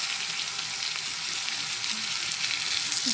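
Ginger garlic paste and turmeric frying in a pan, a steady close hiss and sizzle with faint stirring scrapes, no talk.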